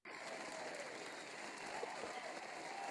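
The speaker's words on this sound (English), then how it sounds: "Can we give her an applause?" Applause from an audience at a self-care summit, a steady, even wash of clapping that stays faint and distant throughout without voices on top.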